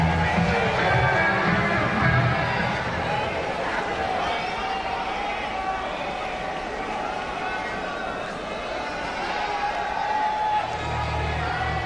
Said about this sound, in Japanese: そしてドリーファンク、 さあそして大きな歓声に送られてリングの中に入りました。